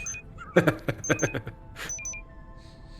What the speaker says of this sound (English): Why are you rubbing against me and making beeping noises?